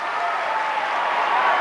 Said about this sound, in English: That brings the crowd to their feet as we've let the crowd back in it.